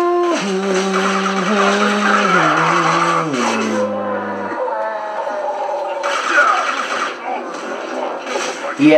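Car tires squealing and skidding in the Mass Effect video game, long loud screeching tones sliding downward in pitch, with bursts of action noise and game voices talking over it.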